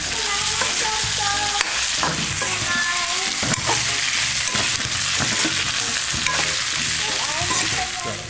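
Basil and onion are stirred together in a hot pan, loud continuous sizzling overlaid with rhythmic scraping and clinking of a spoon against the pan, close and busy throughout.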